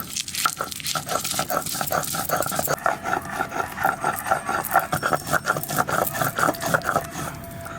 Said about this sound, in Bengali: এবার এর মধ্যে কটা কাঁচা লঙ্কা দিয়ে বেটে নেব